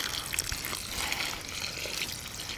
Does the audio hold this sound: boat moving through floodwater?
no